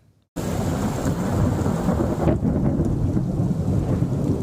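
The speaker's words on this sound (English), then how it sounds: "Roaring booms of thunder and streaks of light cut across the Southern California sky" Thunder rumbles in a heavy, continuous roll during a monsoonal thunderstorm over Southern California in the early morning, with steady rain hissing throughout after an abrupt start.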